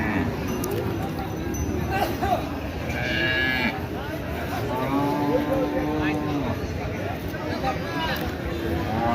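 Cattle and calves low and moo amid the crowded bustle of a cow market in Taherpur, Rajshahi, with several drawn-out calls rising over constant chatter and people talking nearby.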